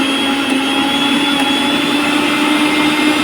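A repaired mixer grinder runs after being switched on, giving a loud, steady high-pitched motor whine with a harsh, buzzing edge, constant and close throughout.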